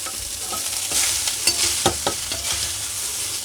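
Cooked rice being stirred and tossed in a hot pan while cooking with curry leaves, a close, steady sizzle broken by soft scraping stirs and light taps, with no voices.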